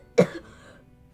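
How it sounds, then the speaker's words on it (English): Two short, dry coughs, close by, about a second apart with quiet in between, in a home kitchen while brown bread ice cream is being made. "Thank you for not coughing into the ice cream"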